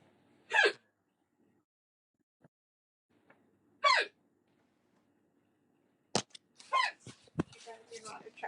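Hiccups from someone who has been drinking beer: a few sharp, isolated vocal gulps spaced seconds apart, then a cluster of clicks, gasps and short vocal bursts near the end.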